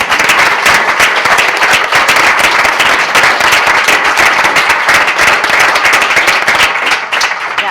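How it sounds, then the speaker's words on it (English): Audience at an education-sector panel event applauding the panelists, a dense, loud, crackling burst of many hands clapping at once that holds steady throughout and thins slightly at the end. "ask for applause for the panelists"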